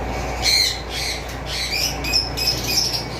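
Many pet cockatiels and sun conures squawk and screech close by in a busy chorus of harsh, overlapping calls, with no talking.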